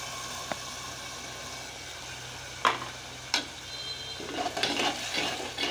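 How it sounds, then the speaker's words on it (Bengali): A spice paste of coriander powder, salt and beaten yogurt is stirred and fried in a pan for hotel-style chicken soup, with a constant soft sizzle broken by a few close spoon scrapes and clinks. "এগুলো দিয়ে ভালো মতো মিশিয়ে মশলাটা কষিয়ে নিতে হবে।"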